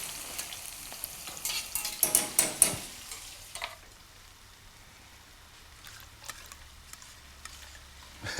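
Salted chillies fry in a pan until golden and crispy, crackling and sizzling up close as they are stirred, then settling into a quieter, softer sizzle.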